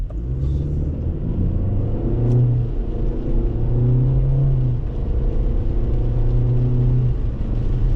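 A 2025 Kia K4 LX sedan with an IVT shifted down through manual mode by the gear lever, its engine note rising and settling in steps beneath a steady in-cabin road rumble, with no talking.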